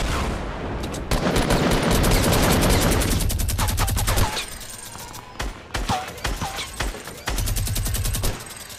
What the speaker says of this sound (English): You finna catch this minigun